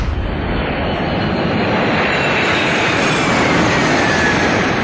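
A GE90-115B jet engine runs on a flying test bed, producing a loud, continuous broadband roar that holds steady and close for the whole stretch with no talk.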